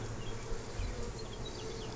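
Honey bees swarming around a top bar hive, a dense continuous buzzing hum close by, steady and moderately quiet throughout.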